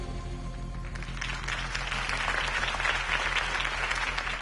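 Applause breaks out at a Harvey Dent campaign rally, a crowd clapping steadily and filling the space, swelling after the first second with a low hum underneath.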